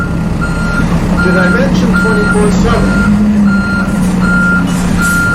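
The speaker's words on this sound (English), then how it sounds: "the loading and the unloading of huge numbers of trucks, all of which is noisy" Trucks reverse at a large logistics warehouse, sending out a regular series of loud reversing beeps over steady engine rumble, while a person talks over them.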